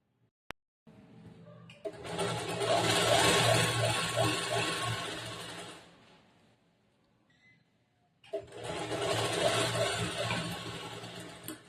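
A sewing machine runs a straight seam on a lined blouse with a border, in two steady whirring runs of about four seconds each separated by a short pause.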